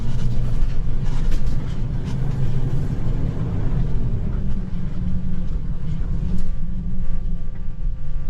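A Ford E450 RV on a test drive, heard from inside as a steady loud engine and road rumble with constant low drone throughout.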